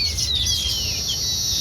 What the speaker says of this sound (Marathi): इकडे सुगरण पक्षी आहेत, घरटे बांधून राहिलेत बरं का